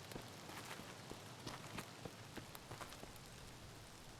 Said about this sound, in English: I mean, it is raining outside, and it's nighttime.